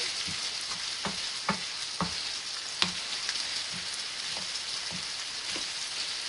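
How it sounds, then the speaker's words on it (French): Minced beef mixed with sausage meat frying for a bolognese sauce for lasagne: a soft, even sizzle hisses throughout, with a dozen light tapping and scraping stirs spaced through it. "la viande hachée, le mélange viande hachée et chair à saucisse font comme un jus"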